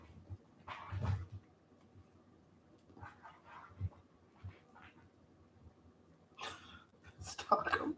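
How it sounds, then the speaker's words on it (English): A dog gives scattered soft whimpers and a few low barks over several seconds, with louder yips near the end, fairly close in a quiet indoor room. "This dog of mine."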